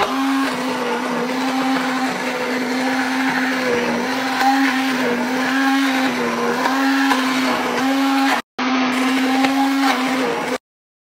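Date molasses porridge with ghee being ground in a blender, a loud steady motor whir with a strong droning hum, cutting out briefly near the end before resuming and stopping.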